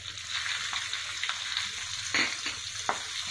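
Asafoetida and green chillies fry in hot oil, giving a close, steady sizzle with a few sharper crackles and pops spaced through it.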